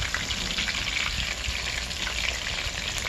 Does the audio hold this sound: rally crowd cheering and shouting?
no